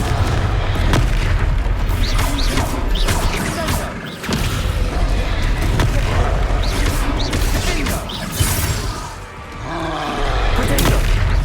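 Repeated Confringo fire-spell blasts and explosions in a Hogwarts Legacy battle, a dense, loud stream of booms and crashes with scattered sharper impacts and barely any pause.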